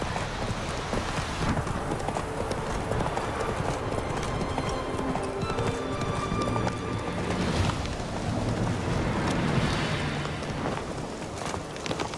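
Horse hooves clip-clopping in The Witcher 3, a continuous rhythmic trot of hoofbeats mixed with rain and rolling thunder from a stormy game scene, fairly loud and dense throughout.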